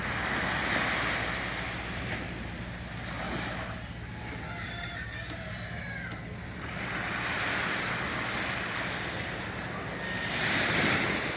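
Sea waves roll in and wash out in slow surges, with wind buffeting the microphone and no voices.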